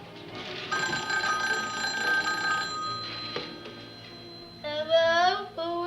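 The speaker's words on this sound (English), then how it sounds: "Jamie, answer the phone, please." An indoor telephone rings with a steady electronic bell tone for several seconds, then stops and a voice speaks near the end.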